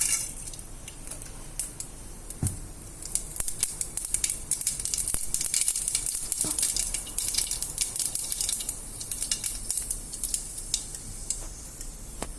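Mustard seeds crackle and pop in hot oil in a pan while cooking pepper broccoli, a steady sizzle dotted with sharp, irregular spluttering snaps close by, with no voices.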